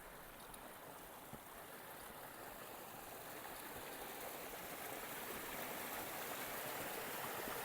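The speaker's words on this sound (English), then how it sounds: "So we're over that stream" A mountain stream on Wrynose Fell in the Lake District rushes steadily nearby, a constant broadband watery wash that swells slightly toward the end, with no voices.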